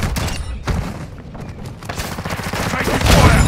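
Dense gunfire and muffled booms in a military shooter game, a continuous fusillade of shots with thuds, steady and fairly loud with no clear pauses.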